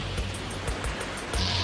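Waves roll onto a beach as the tide comes in, a dense continuous rush of surf that is loud and close, swelling slightly toward the end, with no voices.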